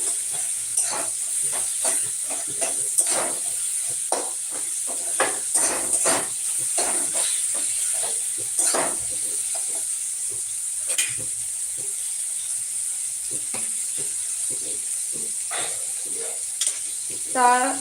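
Paneer being lightly fried in a pan, a constant high sizzle punctuated by many quick scraping stirs of the spatula, close and steady throughout.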